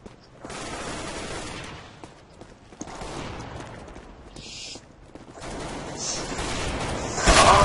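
Gunfire in the video game CS:GO, rapid bursts of shots coming in loud clusters with brief gaps between them and a sharper, louder burst near the end.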